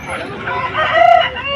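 A black-feathered rooster crows once at a Vijayawada poultry market, close and loud, its drawn-out call rising and wavering over faint background noise.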